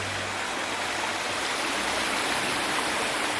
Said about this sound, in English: So Hatch Brook Waterfall emanates from this stream here, which has obviously come down from the moors